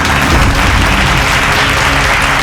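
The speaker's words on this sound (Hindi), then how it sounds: "जोरदार तालियां इनके लिए।" An audience at a jewellery function gives loud, dense applause, a thick continuous roar of clapping heard close and strong from start to end.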